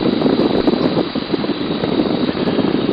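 Small propeller airplane in flight during a crosswind approach with power reduced, a loud steady engine drone mixed with rushing wind noise, continuous and close.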